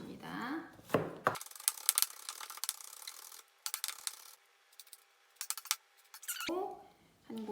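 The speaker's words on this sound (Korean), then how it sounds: "곱게 다져줍니다" A knife finely minces beef on a cutting board in a kitchen, producing quick, irregular close tapping chops. Brief talking is heard at the start and end.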